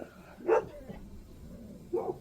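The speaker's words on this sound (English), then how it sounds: "Some dogs have spooked at something." Dogs barking in the distance outdoors, two separate short barks spaced over a couple of seconds against quiet background.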